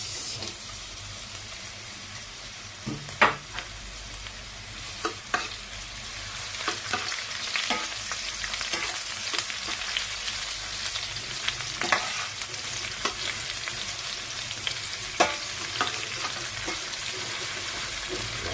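Onions frying in a pan for shrimp and chicken skin binagoongan, a long even sizzle with occasional spatula knocks and scrapes scattered throughout, close but fairly quiet, with no speech.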